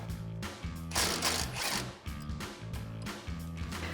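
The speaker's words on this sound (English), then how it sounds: "grab a 10mm socket and remove this bolt so that you can remove this bracket as well" A ratchet with a 10mm socket backs a bolt out of the control arm bracket on a Toyota Tacoma, rapid rhythmic clicking in close bursts with brief pauses, no voices.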